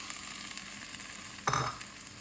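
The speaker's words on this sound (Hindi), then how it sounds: "अब इसमें हम ये पानी डालेंगे थोड़ा सा," Water poured into hot, sizzling masala with boiled black chickpeas and potatoes gives a sudden loud hiss that fades over about half a second, after a steady faint frying crackle.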